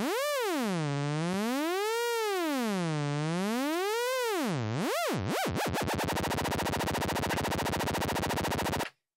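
A Pioneer DJS-1000 sampler pad with hold engaged plays a synth tone whose pitch swoops up and down under an LFO, the wobble speeding up into a rapid buzzing flutter before cutting off abruptly; loud and steady, with no talking.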